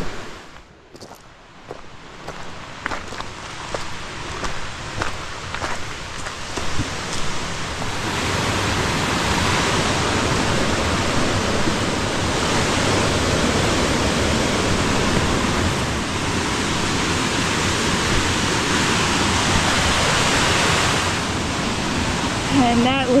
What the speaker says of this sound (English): that's how tall that waterfall is